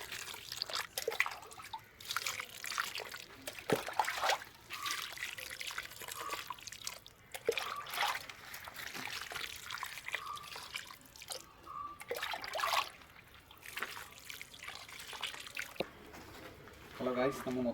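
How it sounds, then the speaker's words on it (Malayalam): Cow dung slurry poured from a container at the base of farm plants, giving wet splashing, dripping and trickling sounds that run throughout under steady nearby talking. "എല്ലാത്തിൻ്റെ മുട്ടിൽ നമ്മൾ ഒഴിക്കുകയാണ്."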